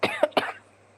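A woman coughs close to the microphone in two or three quick harsh bursts, then falls quiet over a low background hum.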